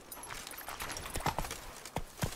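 Hooves of Roach, the horse in The Witcher 3 video game, clop in a quick galloping rhythm of soft thuds with a faint background bed, at a fairly low level and with no talk.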